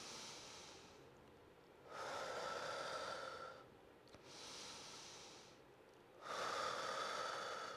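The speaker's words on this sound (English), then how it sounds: "In through the nose and out through the mouth if possible" During floor mobility work, a person takes slow breaths in through the nose and out through the mouth, soft airy rushes alternating in an even rhythm, close and quiet.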